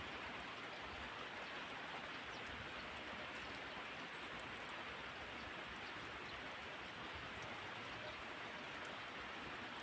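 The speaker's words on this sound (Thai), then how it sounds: "ฝนตกมาใส่" Steady heavy rain pouring down on a cold day, a dense unbroken hiss that stays even throughout with no voices.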